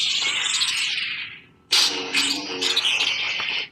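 A Star Wars lightsaber sound set as a phone ringtone gives a loud electronic hum that swells and fades, then strikes again with a sharp buzzing clash, alone and close.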